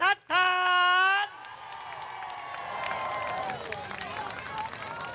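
A crowd at a nighttime rally for Bangkok's governor election in Don Mueang bursts into clapping and cheers after a long, shrill whistle-like tone, the applause spreading into a dense, sustained roar with whoops.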